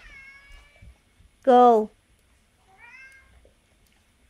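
A house cat gives one loud, close meow of about half a second, with quieter vocal sounds before and after and a person speaking briefly nearby.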